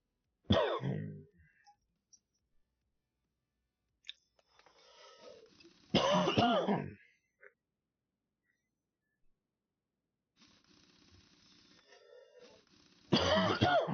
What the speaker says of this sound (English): Sorry, I'm getting a cough now.